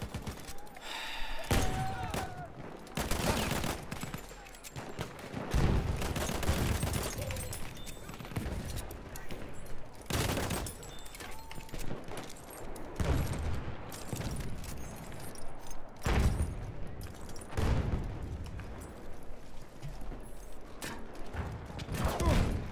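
Battlefield 1 gunfire crackles in repeated loud bursts and single shots across a busy battlefield soundscape, with scattered mechanical clatter between the volleys.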